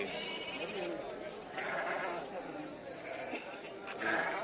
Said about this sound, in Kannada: ಮೇಕೆ ದೊಡ್ಡ ಜಾತಿ ಮೇಕೆ ನೋಡ್ರಿ ಸ್ವಲ್ಪ